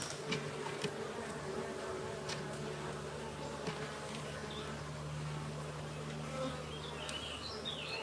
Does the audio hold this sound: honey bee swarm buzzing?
yes